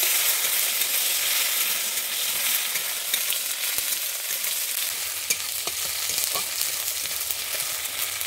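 Loud, continuous sizzling of chopped tomatoes frying in a pan, with a few light scraping taps from stirring near the end.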